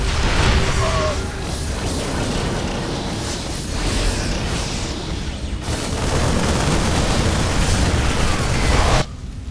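Siege tanks in a StarCraft II match fire in a dense, continuous barrage of booms and blasts, loud and sustained, with layered explosions and game sound effects throughout before cutting off abruptly near the end.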